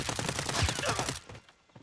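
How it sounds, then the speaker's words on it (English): Rapid bursts of gunfire in the video game Call of Duty: Warzone, a quick rattling volley that cuts off abruptly after about a second, leaving quieter background ambience. "I heard gunfire."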